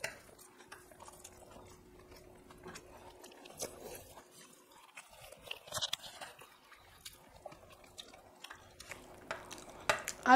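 Someone eating hot rice mixed by hand with ground coriander-leaf paste, giving soft, wet mixing and chewing sounds close up, with occasional crunchy bites and a faint steady hum underneath.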